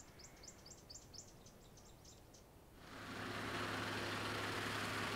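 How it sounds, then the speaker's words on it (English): Birds give a quick series of chirping calls beside a waterhole on the Mabula plains, moderately close and clear, before a vehicle engine starts idling and drowns them out. "Just a beautiful calm scene with the birds calling in the"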